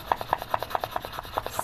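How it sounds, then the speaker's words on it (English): Hand sanding of wire-wrapped Fleur de Lis earrings with a folded quarter sheet of 2000 grit sandpaper: close, soft rhythmic rubbing strokes repeating steadily, about four a second, with no talking. "sanding, polishing, and this 2000 grit is going to give you a really nice finish"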